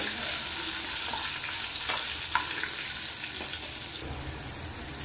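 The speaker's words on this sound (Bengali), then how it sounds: "কারি পাতাটাকেও এর সাথে একটু ভালো করে ভেজে নিয়েছি" Curry leaves and split green chillies frying in hot oil as tempering for dhokla, giving a dense, steady close sizzle throughout with a few soft stirring knocks and no voices.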